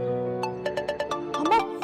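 A phone rings in a Pakistani drama scene, a repeating electronic ringtone pulsing several times over background music, fairly close and clear.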